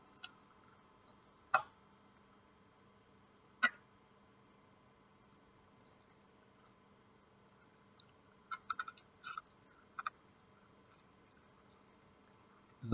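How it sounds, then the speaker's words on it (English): Birds outside give sparse, brief calls: a couple of isolated chirps early on, then a quick cluster of short calls later, faint against a quiet, steady background. "A lot of birds outside."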